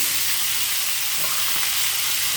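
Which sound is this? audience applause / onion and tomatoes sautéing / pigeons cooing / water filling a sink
onion and tomatoes sautéing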